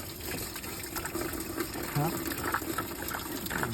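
Water drains and splashes out of a 2016 Peugeot 208 1.6 DV6FE diesel engine during a timing belt job. It trickles and gushes unevenly under someone speaking close by.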